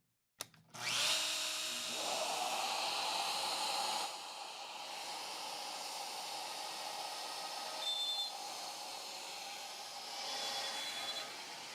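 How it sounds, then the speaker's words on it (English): A power spindle cutting wood for a bridle joint on a Krenov box: a sharp start-up clack, then a loud, steady high whine and rush of cutting that dips slightly midway and holds to the end. "I'm going to turn the spindle on and we're going to cut it"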